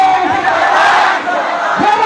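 A large crowd at a political gathering in Baliyapur near Dhanbad, Jharkhand, shouting together in a loud, sustained roar of massed voices close by.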